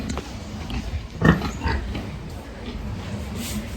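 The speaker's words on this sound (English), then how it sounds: "There are two other pigs down here." Pigs on a Jamaican farm grunting low and rough, with one louder grunt midway over steady outdoor background noise; a voice is also faintly present.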